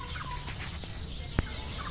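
Chickens sick with CRD respiratory disease, clucking and murmuring as a steady, close flock noise, with one sharp click partway through and no talking.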